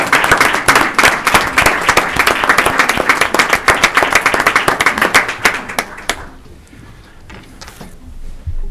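A round of applause at a county board of commissioners' meeting, loud close crisp clapping from a modest crowd that stops abruptly, leaving near silence with a few scattered late claps.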